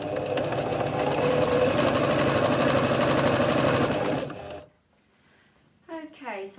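A sewing machine stitching the sides of a fabric drawstring wash bag runs with a fast, steady whir for about four seconds, then stops; after a short pause a voice begins speaking.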